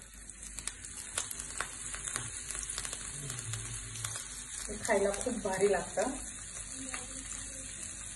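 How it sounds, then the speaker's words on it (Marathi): Semolina-coated fish sizzles gently on a hot oiled tawa, a faint, steady frying hiss with a few clicks, while someone talks over it. "आता आपण हे दोन्ही बाजूने रवा लावलेला आहे, ते फिश याच्यावर एक एक करून असे ठेवून देऊयात"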